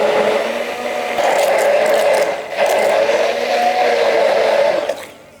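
A blender grinds green Canarian mojo sauce, with oil added a drop at a time, in a loud, close whir that dips briefly midway and stops at the end.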